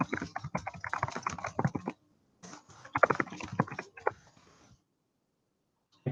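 Fast bursts of computer keyboard typing while entering a template name, clustered clicks in two runs separated by a short pause, close and clear.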